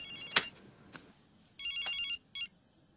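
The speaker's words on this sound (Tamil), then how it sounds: "போன் அடிக்கிறதுல ஏந்து போய் பேசு போ." A telephone rings in a Tamil film scene, sounding as short electronic ringtone bursts, clear and close, with no talk over them.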